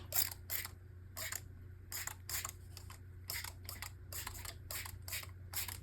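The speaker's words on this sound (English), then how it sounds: "I've got a spray bottle here, and I'm going to give these a spritz." A spray bottle spritzes water onto an abstract painting in rapid bursts, a dozen or so short hissing puffs in uneven clusters against a low steady hum.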